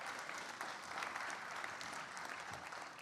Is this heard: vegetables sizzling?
no